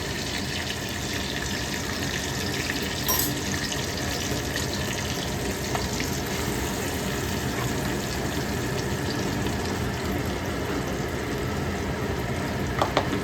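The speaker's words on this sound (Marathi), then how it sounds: "कढीपत्त्याची फोडणी दिली आणि आता सगळे मसाले टाकले" Steady, loud sizzling of homemade spices frying in hot oil with curry leaves continues without a break, a dense crackling hiss that lasts throughout with no talking.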